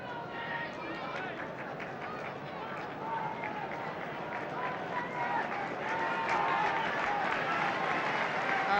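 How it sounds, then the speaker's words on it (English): A football stadium crowd at Manchester United v Leicester City applauds as a player leaves the pitch, a broad, distant rumble of clapping and crowd noise that swells gradually. "And the applause is because Dennis Law is going off."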